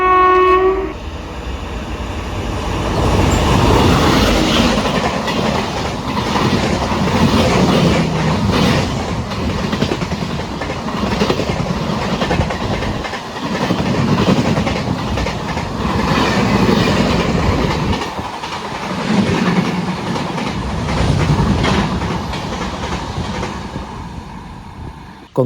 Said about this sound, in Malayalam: കൊങ്കൺ റെയിൽവേയുടെ വക തേപ്പൊക്കെ കിട്ടി ഇങ്ങനെ പോയിക്കൊണ്ടിരിക്കുന്ന നേത്രാവതി എക്സ്പ്രസ് ആണ് ഇപ്പോൾ തൃക്കരിപ്പൂർ സ്കിപ്പ് അടിച്ചിട്ട് പോയത്